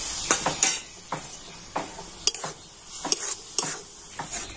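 Coconut and date palm jaggery filling stirred in a wok, giving soft scraping strokes with faint sizzling and clicks of the spatula against the pan, spaced irregularly and fairly close.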